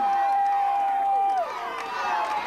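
A high school football crowd roars steadily through a late-game running play in heavy rain, with the broad wash of voices swelling under a commentator's talk.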